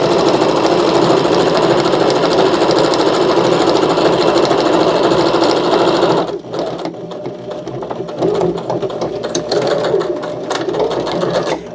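A sewing machine runs at a steady, loud buzzing rattle while stitching a fabric ottoman slipcover, then stops about halfway, leaving quieter handling noises and lighter mechanical sounds.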